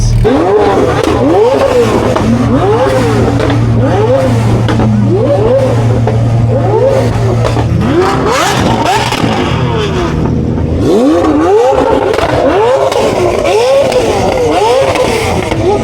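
Supercars, including a Lamborghini Revuelto, a Lamborghini SV and a Porsche GT3 RS, leave a supercar rally together, with loud, continuous engine roars and repeated rising revs as they pull away close by.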